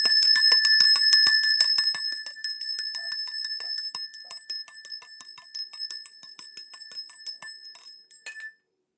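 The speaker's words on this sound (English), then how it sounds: "Let me ring this bell, child." A small handheld bell is rung rapidly and steadily, bright ringing strokes that gradually soften and space out before stopping abruptly, close and alone.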